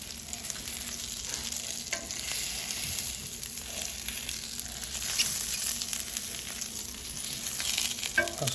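Smashed vegetables sizzle and pop steadily while frying in a pan for a simple Thanksgiving meal, a continuous moderately loud crackle with scattered sharper pops.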